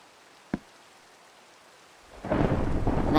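Rain pours down in the Minecraft video game, opening with a single sharp thunder crack followed by quiet, then a loud, steady rush of rainfall that builds in and holds to the end.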